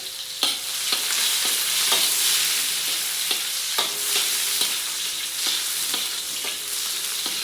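Onion and garlic sauté in a preheated pan for a chicken adobo, a steady close frying sizzle broken by regular scrapes and taps of a spatula stirring, with no voices.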